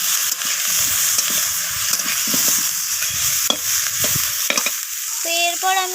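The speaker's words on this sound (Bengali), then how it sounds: "সমস্ত কিছু মশলা আমি নাড়াচাড়া করে কষিয়ে নিচ্ছি।" Ground red chilli and cumin sizzle steadily in a hot pan while a spoon stirs and scrapes through the spices, loud and continuous with a few sharp clinks of metal.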